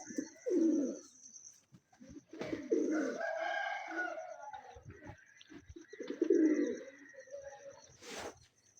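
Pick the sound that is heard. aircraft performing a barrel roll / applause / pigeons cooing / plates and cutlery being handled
pigeons cooing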